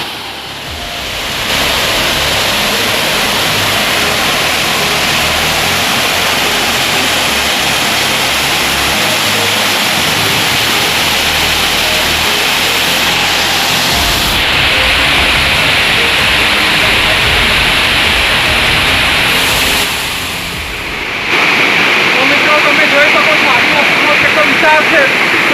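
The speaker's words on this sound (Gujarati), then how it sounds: "મિત્રો તમે જોઈ શકો છો કેટલો વિશાળ ધોધ છે, અહીંથી 50 થી 60 ફૂટ ઉપર છે।" Roaring Aadiwasi waterfall in Vansda, Gujarat, dropping some 50 to 60 feet: a steady, loud broadband rush of falling water that fills the whole scene, with shifts in level as the position changes and a brief dip near the end.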